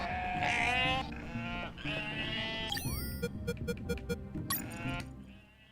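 Sheep in the video game UNmetal bleat loudly several times in quick succession, wavering cries up close, followed by metallic clinks and electronic game effects, with a voice talking underneath.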